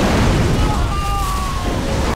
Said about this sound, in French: finit par mourir dans une explosion causée par un missile assez mal réalisé